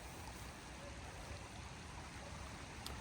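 Small river flowing in January, a faint, steady wash of running water with no break, heard from a little way off and alone.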